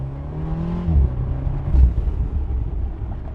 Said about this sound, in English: It makes fun little turbo blow-off valve noises.